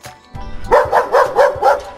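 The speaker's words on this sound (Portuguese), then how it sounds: "Chega o cachorro." A dog barks five times in a quick, even rhythm, loud and close, after a brief low grunt.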